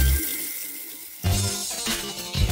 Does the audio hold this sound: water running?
yes